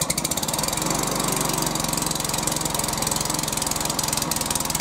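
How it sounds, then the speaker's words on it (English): A Hyundai HYM430SPER self-propelled petrol roller lawnmower starts from cold and settles into a fast, steady chugging idle, loud and close, with no other sound. "Pull back on the OPC lever and start the lawnmower."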